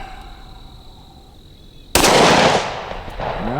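A single sharp, loud shot from a Smith & Wesson M&P 2.0 10mm pistol fired outdoors at a steel plate about 80 yards away, bursting out of quiet ambience and ringing off.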